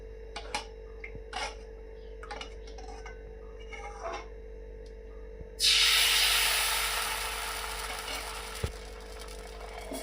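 Water is sprinkled onto chitoi pitha in a hot pan on a gas stove. After a few light taps, a sudden loud sizzle bursts up and then gradually fades into a steady hiss.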